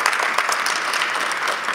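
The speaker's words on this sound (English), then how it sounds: "I think we all should give us a huge round of applause to each other" A crowd at a walkathon event bursts into loud, dense applause, with steady close clapping filling the whole short stretch and no break.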